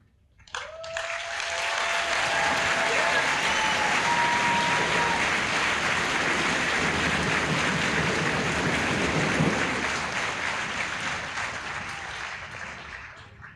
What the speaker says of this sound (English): please join me in another round of applause for our retiree and their family